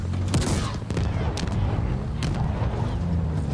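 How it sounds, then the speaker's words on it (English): Heavy gunfire in Halo Infinite fills the space with dense, continuous rumbling bursts and repeated sharp reports, loud and sustained throughout. "Pretty good and accurate firing."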